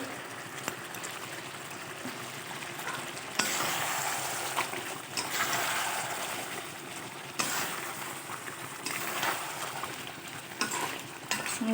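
Wedding-style Bengali chicken kosa being stirred in a pan as its released water cooks off: a continuous wet sizzle with repeated scraping strokes that swell and fade, close up and with no talking.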